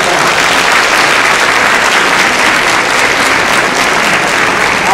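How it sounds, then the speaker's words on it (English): A graduation audience at Widener Law in Harrisburg applauds parents and supporters, dense continuous clapping that stays loud and even for the whole stretch, with no pauses. "I want you to applaud your parents, spouses, friends, and significant others for all the support you have been given"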